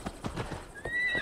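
A horse in the video game Assassin's Creed Valhalla gives a short, high whinny over a few quick hoof clops, fairly faint and brief.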